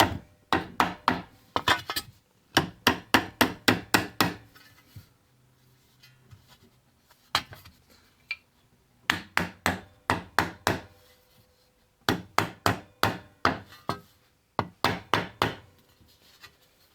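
A mallet strikes the edge of a steel vambrace armguard in clusters of sharp, hollow knocks, several quick blows per burst with short pauses between, close and fairly loud with no talking.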